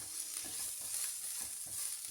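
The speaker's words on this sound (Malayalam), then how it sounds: "ഉള്ളി ഇട്ടിട്ട് നല്ലപോലെ ഒന്ന് ഇളക്കി കൊടുക്കുക" Steady frying sizzle of small onions with soft scraping strokes of a spoon stirring through the pan at an even pace, close and clear with no voices.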